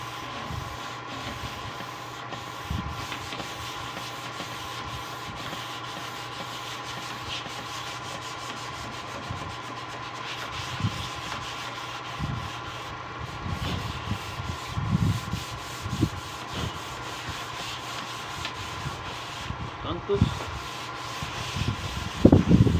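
Hand sanding with 220-grit sandpaper on a wood finish, quiet rhythmic rubbing strokes that grow a little louder and more irregular toward the end, with no voices.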